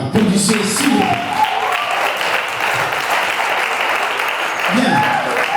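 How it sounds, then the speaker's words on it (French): Guests at a civil wedding in Brazzaville burst into loud, sustained applause filling the room, while voices call out and talk over the clapping at the start and again near the end. "Applaudissez s'il vous plaît."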